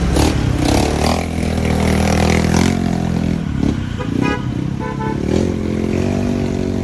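Busy street traffic with motorcycles and cars rumbling and revving close by, while car horns toot and honk repeatedly throughout, loud and dense.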